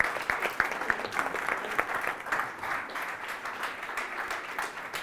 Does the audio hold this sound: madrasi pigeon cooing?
no